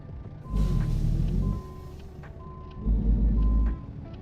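Reversing alarm beeps from a truck in American Truck Simulator, a steady repeating tone over a deep idling engine rumble that swells twice as the truck backs up.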